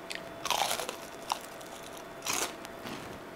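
Someone bites into crispy honey mustard chicken tenders, giving two loud, close crunches with crackly chewing between them and no talking.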